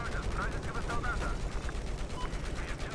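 Continuous gunfire from the Battlefield 4 video game rattles through a dense, loud battle din, with rapid overlapping shots and no clear break over the few seconds.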